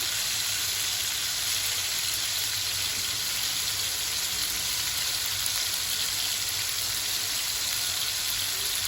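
Tomatoes sautéing in a pan for a Marathi fish curry, a steady, even sizzle and frying hiss running throughout with no talk.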